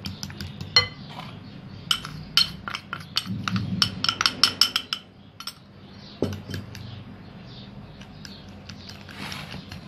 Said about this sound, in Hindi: पाँच मिनट तक हमने अंडे और चीनी को अच्छी तरह से मिक्स किया है